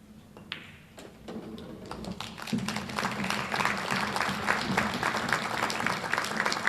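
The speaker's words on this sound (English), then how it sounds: "that clap that you can hear is confirmation" Audience applause breaks out at a 9-ball billiards tournament, a dense, steady patter of many hands that builds from sparse claps into sustained clapping, with a few individual sharp claps standing out near the start.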